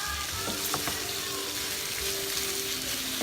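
Shrimp sear on a hibachi grill, a steady close frying sizzle with faint scraping and clinks, no talking.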